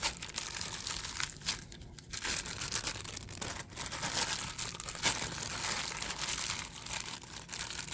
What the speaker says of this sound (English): I'm just using a plastic bag so I don't get my hands dirty